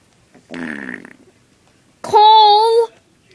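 Two cartoon fart sounds in an animation, a short sputtering one followed after a pause by a longer, louder, tonal blast, both close and alone without talk.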